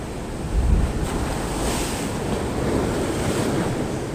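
Strong ocean waves surging steadily around a small fishing boat in stormy weather, a continuous close roar of surf with heavy wind buffeting the microphone.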